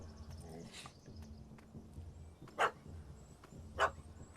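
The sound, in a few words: puppy barking at a cat up a tree, from video game The Witcher 3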